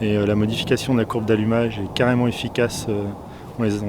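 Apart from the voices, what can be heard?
No everyday noise stands out behind the speech.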